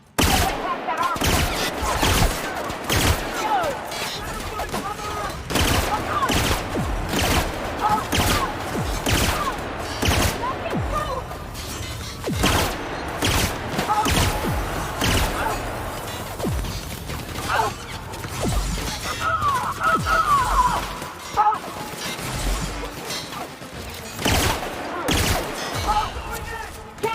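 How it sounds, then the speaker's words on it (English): Sustained gunfire and combat in The Outer Worlds (Spacer's Choice Edition) final mission, dense bursts of shots and impacts running continuously and loudly, with a companion voice speaking over the action. "we have a lot of shooting to do, Captain"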